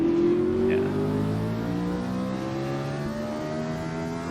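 A vintage race car revs out in the Assetto Corsa sim on the 1963-1966 Greenwood Roadway, loud engine notes climbing with a brief upshift dip, then a sustained rising drone, no voices.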